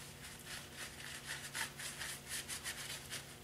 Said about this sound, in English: So I'll wash it down with a little brake cleaner.